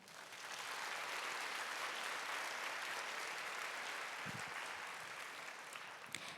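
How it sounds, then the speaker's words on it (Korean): Sustained applause from a church young-adult congregation, blessing two brothers about to enlist in the army, rising quickly and holding steady as a dense, even wash of many clapping hands before easing slightly near the end. "박수로 축복해 주시길 바랍니다"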